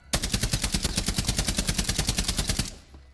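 UMP45 submachine gun firing full-auto in Rainbow Six Siege, a rapid even burst of about twenty-five loud close shots lasting under three seconds, then a short fading tail.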